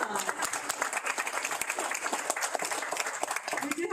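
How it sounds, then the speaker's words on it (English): An audience at an American Red Cross presentation gives a round of applause, a moderately faint, continuous patter of many hands clapping without a break. "Let's give a round of applause."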